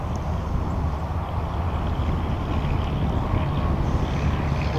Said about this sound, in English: we're going to take the plane up, we're going to fly it pretty straight overhead